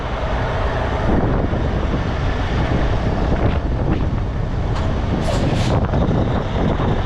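A vehicle stuck in mud is put in gear and strains to move, a steady loud rumbling engine drone with wind buffeting the microphone and a few brief sharper noises toward the end.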